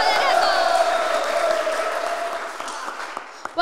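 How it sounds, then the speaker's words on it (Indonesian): Audience applause for a judge at a talent competition, a loud burst of dense clapping with cheers that gradually fades away, ending with a few scattered claps. "Beri tepuk tangan untuk Pak Slamet Herianto"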